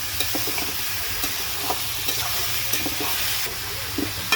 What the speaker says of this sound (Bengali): এখন আমি নেড়ে চেড়ে দিচ্ছি।